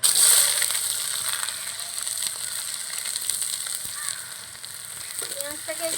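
Chopped onion dropped into hot oil with fried whole cumin seeds sizzles loudly and steadily up close, a continuous bright frying hiss that eases slightly as it goes on, with no talking.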